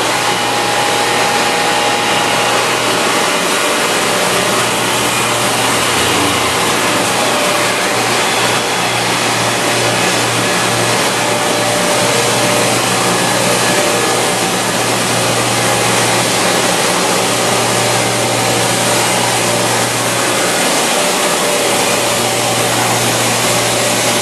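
An Index MS32C multi-spindle lathe from 2005 runs steadily, a loud continuous mechanical whir and hum filling the space with a constant drone and no voices.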